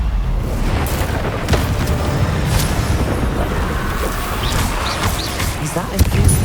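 An Incendio fire spell cast in Hogwarts Legacy on PC, giving a booming burst with crackling, roaring noise under a speaking voice, plus a few sharp hits toward the end.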